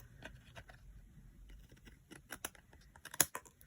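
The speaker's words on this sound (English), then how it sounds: "I just turn it over and snip from the back using the edge of the card as a guideline" Scissors snipping away excess card from the back of a stamped, die-cut background, a run of faint close clicks and sharp snips, the last one louder.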